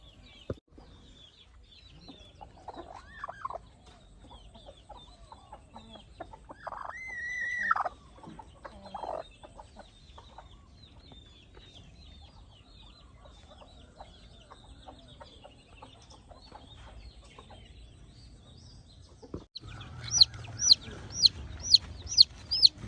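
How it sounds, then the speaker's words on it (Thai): A broody hen sitting on eggs clucks in low, irregular calls among other farmyard fowl, with a run of sharp, loud, rhythmic clucks near the end. "แม่ไก่ ที่กำลังฟักไข่ จับไม่ได้แล้ว"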